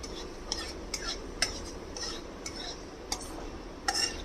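Panch phoron spices frying in a little mustard oil in a wok for raw mango chutney, a faint sizzle broken by repeated clinks and scrapes of a spoon stirring.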